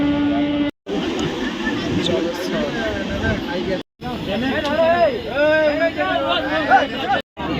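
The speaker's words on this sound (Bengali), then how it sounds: "বেশ ভালো ভিড় আছে" Crowded sleeper coach aboard the new LHB Jagannath Express 18409 running from Kolkata to Puri, filled with a steady hubbub of overlapping passenger chatter and train rumble, broken by a few brief drops to near silence.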